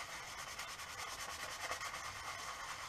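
Fine sandpaper rubs back and forth over the blade of an old cross cut saw in quick, even strokes, soft and close with a steady scratchy rhythm.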